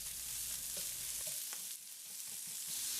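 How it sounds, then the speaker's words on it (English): Onions sauté in an oiled pan for stir-fried steak and onion, giving a faint, steady sizzle with a soft low hum, alone with no talking. "just add in the onions and start sauteing"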